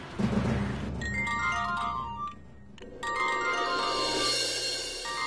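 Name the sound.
phone ringtone from an incoming call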